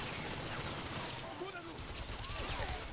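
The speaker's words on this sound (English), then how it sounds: "just a hail of gunfire from every direction" Constant gunfire in the video game Bodycount, a dense, unbroken crackle of shots and impacts from all sides at a low, muffled level, with a voice talking over it.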